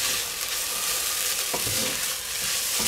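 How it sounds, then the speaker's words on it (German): Peppers, onions and garlic sauté in a pan with a steady, close sizzle and a soft stirring scrape partway through, with no voices. "Knoblauch habe ich jetzt ein bisschen leicht angeröstet"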